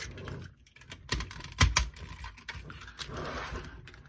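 Die-cast metal parts of a DX Chogokin Fiverobo sentai robot toy, an arm joint and hand, clicking and clacking into place in a handful of close, sharp knocks with quieter handling rattles between them.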